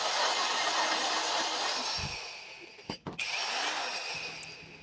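An APR AP22+ cordless angle grinder spins steadily at speed, a continuous high whirring whine running throughout with a brief dip and a couple of sharp clicks near the three-second mark.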